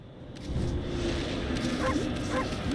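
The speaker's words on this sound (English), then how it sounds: "Bark." The wolf Amaterasu in the video game Okami gives two short yipping barks, moderately near, over a steady musical game background.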